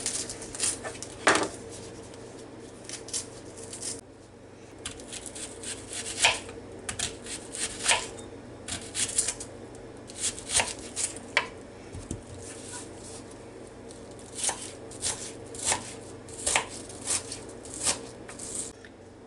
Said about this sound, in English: Now we're going to just cut up a part of an onion.